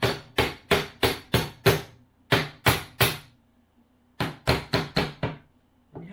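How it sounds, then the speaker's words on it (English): A hammer taps a vinyl flooring plank through a plastic tapping block in quick bursts of sharp knocks, five, three, then four blows with brief pauses, close and crisp. "So what you do is you take the hammer."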